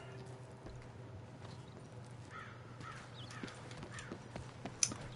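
Soft, steady horse hoof clip-clops in Red Dead Redemption 2, with distant crow caws and a low background hum; one sharp click near the end.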